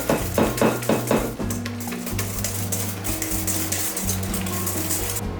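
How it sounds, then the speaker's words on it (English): Eggs are mixed into cookie dough in a bowl with quick rhythmic scraping strokes at first, then a steadier stirring and clinking under low background music. "Let's mix in those eggs"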